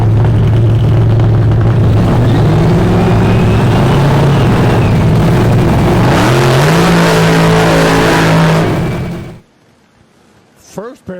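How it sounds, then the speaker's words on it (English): Drag race cars launch hard down the strip, their engines roaring loud and close and rising in pitch as they accelerate, then cutting off abruptly into near silence. "First pair of cars went right down the boulevard."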